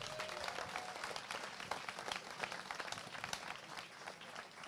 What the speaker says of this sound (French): Vous le voyez avec les applaudissements